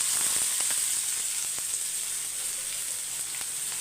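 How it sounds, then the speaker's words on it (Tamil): Fennel seeds fry in hot oil with a steady, close, bright sizzle and a faint crackle of small pops running throughout. "சோம்பு சேர்த்துக்கோங்க பொரியட்டும்"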